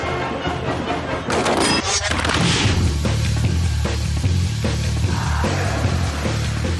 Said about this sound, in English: the day is all about what happens at night. Fireworks.